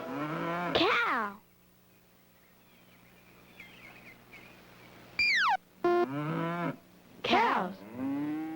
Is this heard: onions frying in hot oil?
no